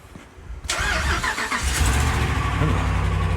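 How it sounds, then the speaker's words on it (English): A truck engine cranks and starts up nearby outdoors on a city street, its rumble swelling suddenly and then holding a steady, loud idle. "Didn't know there's anybody in that truck until it started up."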